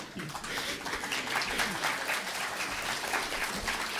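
Audience applause at a Slovak folk performance of heligónka (button accordion) players, a dense, steady clapping from a large crowd sustained throughout, loud and continuous without a break.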